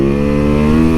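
A motorcycle engine drones loud and close for a moment while being ridden on cold winter roads, a steady harmonic hum with no voices over it.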